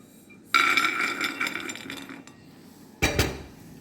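Roasted nuts tipped from a pan onto a plate, two bright clattering spills of small hard pieces on a hard surface, the first longer and fading, the second shorter, fairly quiet with no talk.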